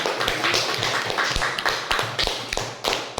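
Scattered clapping from a group at a school gathering, with irregular, fairly close claps and soft thumps that repeat unevenly over a few seconds and no talk over them.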